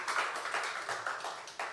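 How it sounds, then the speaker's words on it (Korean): A church congregation claps together in worship: a quiet, steady patter of applause with irregular swells, heard from a distance, lasting under two seconds. "우리 하나님께 영광의 박수 올려드리겠습니다"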